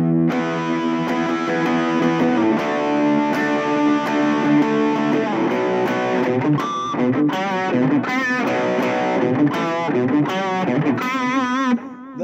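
Distorted electric guitar playing a power chord riff, starting with long sustained crunchy chords and moving into choppier, bending chord stabs, loud and steady throughout with no voice.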